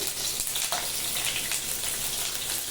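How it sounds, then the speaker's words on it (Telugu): Onions frying in oil with whole spices and green chillies in a pot, a steady close sizzle with crackling pops throughout. "తర్వాత ఆనియన్స్ ఇవి కొంచెం వేగించుకున్నామండి"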